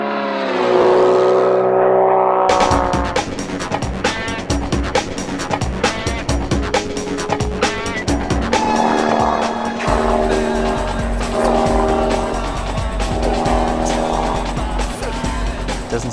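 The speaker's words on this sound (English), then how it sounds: "The exhaust system is built by Skydynamics in America and gives this aircraft its particularly good sound." Slick aerobatic aircraft with a Skydynamics exhaust, engine running loud and close with a dense, rasping drone, a sharp onset after a brief lead-in and steady roaring power with pulsing overtones throughout.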